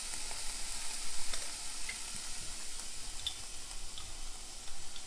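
Garlic, bell pepper and onion sauté in a hot pan, giving a steady close sizzle with faint scattered ticks and clicks throughout.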